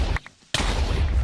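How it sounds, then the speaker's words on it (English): Exploding creepers in the video game Minecraft, a loud blast, a brief near-silent gap, then a second heavy boom with a rumbling tail, close and alone without talk. "that was a double explosion"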